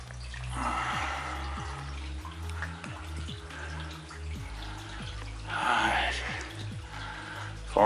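Water dripping and trickling inside a flooded underground coal mine, with a low steady hum and repeated small splashes under a continuous echoing background.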